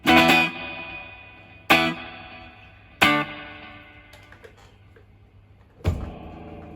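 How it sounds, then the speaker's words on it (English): Clean electric guitar chords through an amp's clean channel strike a few times, each ringing out and decaying with a splashy spring reverb tail set about two-thirds up, with quiet pauses between. "This is just the clean channel. The reverb is about 2/3 the way up."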